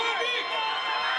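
Spectators in Alma cheer and shout for a strongman lift at a Strongman Circuit event, a dense, continuous wash of crowd voices and whoops, steady and loud throughout.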